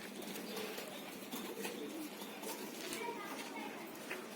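Fancy pigeons in a rooftop breeding setup coo softly and keep up a faint murmur, blended with distant background voices and general outdoor noise.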